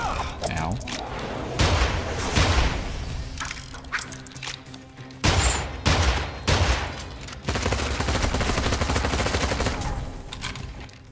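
Gunshots in the first-person shooter Immortal Redneck, loud repeated bursts and booms nearly continuous throughout, with someone talking over the action.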